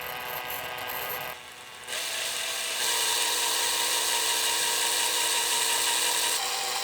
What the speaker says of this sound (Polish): Na początku bardzo łatwo szło dlatego że wierciłem w izolatorze.